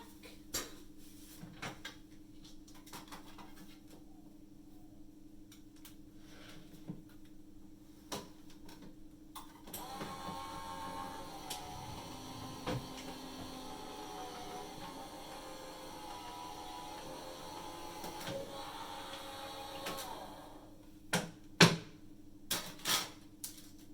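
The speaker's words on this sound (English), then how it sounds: "while I run this through my die cutting machine" A die cutting machine runs for about ten seconds as a steady mechanical whir with faint rattling, framed by scattered clicks and handling knocks before and after, with no talking.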